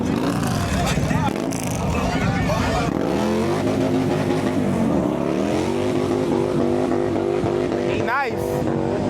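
A motorbike engine revs and accelerates on a Los Angeles street before a street race, loud and close with rising and falling pitch sweeps, under a crowd's chatter and talk.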